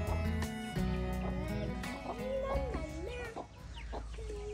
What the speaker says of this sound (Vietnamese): Ui, có hai con gà trống cổ.